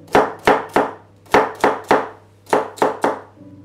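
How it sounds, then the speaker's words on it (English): A knife chops a celery stalk on a cutting board in about nine sharp, loud, close strikes, coming in quick clusters of two or three with short pauses between, and no talking. "One celery stalk,"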